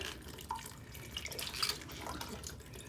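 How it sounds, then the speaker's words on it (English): Water drips and trickles off a halved, soaked cabbage into a kitchen sink, a close, continuous patter of small splashes with occasional brighter drops. "I'll let the water drop off for you."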